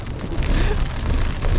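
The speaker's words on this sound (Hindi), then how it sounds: "बहुत तेज़ तूफ़ान है, बहुत ज़्यादा तेज़ तूफ़ान है" Heavy rain and a storm beating on a camping tent at night near Prashar Lake: a dense, close, continuous roar of rain and wind with deep low rumbling, loud throughout the short stretch.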